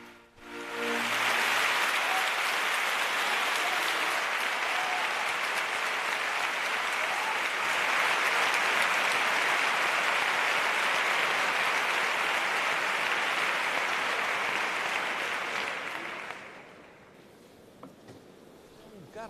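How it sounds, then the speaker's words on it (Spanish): A theatre audience, honour guard included, applauds Rafael González Serna at the Seville Holy Week proclamation: dense, sustained clapping that swells quickly, holds steady for about fifteen seconds, then fades out. "Hasta la Guardia de Gala estaba aplaudiéndole a Rafael González Serna."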